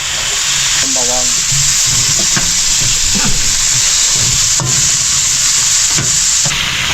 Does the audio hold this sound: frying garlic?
yes